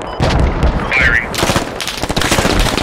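Rapid automatic gunfire in a squad-based shooter game, dense overlapping bursts of loud cracks and booms, with voices briefly heard amid the shooting.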